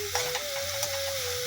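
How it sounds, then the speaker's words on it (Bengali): Shrimp frying in hot oil in a home Bengali kitchen, cooked before going into a fig curry, give a steady close sizzle with a few faint stirring clicks and no talk. "মা এই চিংড়ি মাছগুলো প্রথমে একটুখানি ভেজে নিচ্ছে"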